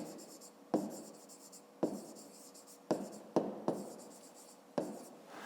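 Pen or pencil writing by hand on paper for a school math exercise, close and quiet, with steady scratching strokes broken by several sharp taps as the pen touches down.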